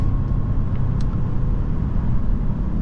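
A 2024 Mercedes-Benz E350 luxury sedan accelerates on the highway, giving a steady, loud low rumble of engine and road noise throughout with no breaks or talking.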